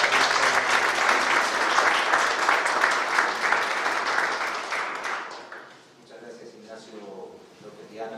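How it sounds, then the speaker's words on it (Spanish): Audience at a panel event on reducing and making the working day flexible breaks into strong, steady applause for about five seconds, then it fades out and a voice starts talking. "Pido un fuerte aplauso"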